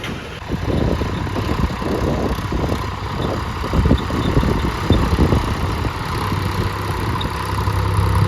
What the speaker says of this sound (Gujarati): જાય છે ટ્રેક્ટર